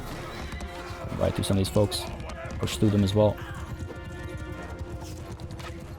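Horses gallop through a battle in the video game Mount & Blade II: Bannerlord, bursts of rapid rhythmic hoofbeats rising and fading while someone talks over them.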